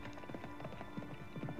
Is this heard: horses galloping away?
yes